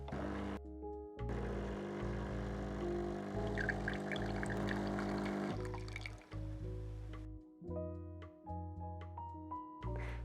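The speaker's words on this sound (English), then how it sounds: "With a cup underneath, press either the single or double espresso button to pull through the perfect espresso." A Smeg EGF03 manual espresso machine pulls a shot into a cup, giving a soft liquid pour and trickle over the pump's steady hum, which stops and restarts in short bursts near the end.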